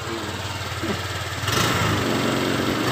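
Honda Vario 125 LED scooter engine with a stalling fault, idling roughly then revving harder midway, a close, continuous sputtering drone that stays loud to the end.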